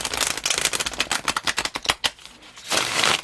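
Rapid snapping and riffling of tarot cards, a quick burst of crisp clicks that slows, then a brief whooshing riffle at the end.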